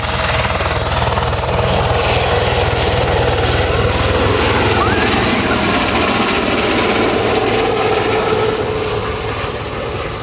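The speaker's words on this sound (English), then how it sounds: "So just at the back of the car park is where you can get the helicopter rides if you want to go on a helicopter." A helicopter flying over a car park beside the Great Ocean Road in Australia gives a loud, continuous rotor thrum with a broad engine roar that holds steady and then fades slightly near the end.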